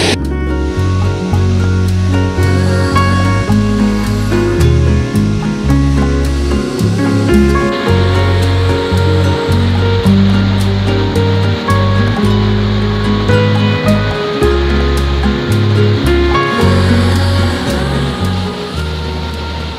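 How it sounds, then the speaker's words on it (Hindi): Rishi Ganga waterfall at Badrinath, a heavy, steady roar of falling water crashing onto wet rocks, loud and close, continuous throughout with no talking. "वाटरफॉल बद्रीपुरी में एक टूरिस्ट डेस्टिनेशन बन गया है, काफी सुंदर सा।"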